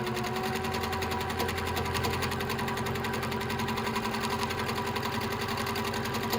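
Domestic sewing machine running steadily through free-motion quilting with a quilting foot, a continuous fast mechanical whir and needle chatter that holds at an even, close level with no talking.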